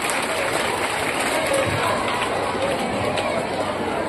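At a school ceremony, a crowd claps continuously for a student receiving a certificate and trophy, a dense, even applause lasting the whole stretch with some chatter mixed in.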